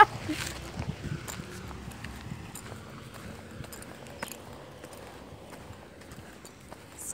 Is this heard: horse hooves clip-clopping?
yes